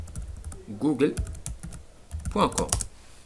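Keystrokes on a computer keyboard typing a ping command for a web address, quick clicks under someone speaking French.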